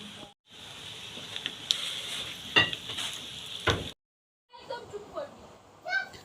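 Dried chilli and cumin tempering sizzles in hot oil in a wok, with crackling bursts and scraping stirs broken by brief pauses, close and moderately loud.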